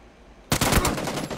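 SCAR rifle fire in the video game Warzone begins abruptly after a quiet lead-in, then runs as a rapid, loud, close burst of repeated shots to the end.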